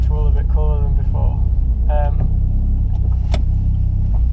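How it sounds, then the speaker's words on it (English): A Peugeot 106 Rallye with an upgraded Nissens radiator drives through town, its engine a steady low drone inside the cabin while a person talks over it. "But now I'm actually doing some town driving"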